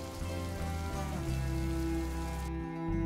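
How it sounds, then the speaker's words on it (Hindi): Steady rain patters in an animated cartoon story under a sustained musical drone, a continuous soft hiss that cuts out abruptly near the end. "अर्जुन बारिश रुकने तक वहीं ठहर जाता है।"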